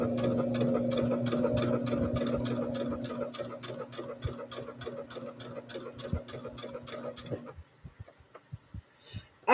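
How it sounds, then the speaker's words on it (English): A domestic sewing machine runs a fast, steady stitching rhythm along a pajama tee-shirt seam for several seconds, then slows to a few scattered clicks and stops. "I'm gonna sew down the other side"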